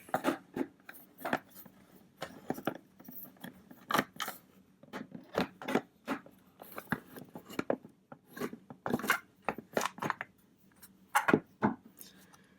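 Two small screws being backed out of the rear case of an ArcherKit multimeter kit, a run of faint close scraping and ticking turns with short pauses between, no talk.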